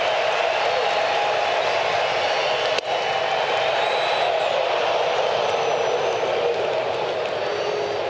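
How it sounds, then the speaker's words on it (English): Baseball crowd at an Atlanta Braves game against the Washington Nationals cheers on pitcher Newcomb, a dense, steady roar that fills the whole stretch, broken only by one brief sharp knock partway through. "Crowd trying to cheer Newcomb on here."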